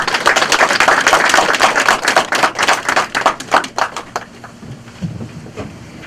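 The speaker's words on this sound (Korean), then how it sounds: "박수." Audience applause at a theological seminary graduation ceremony, a loud and dense wash of many hands clapping for about four seconds before thinning out and fading into a few scattered claps.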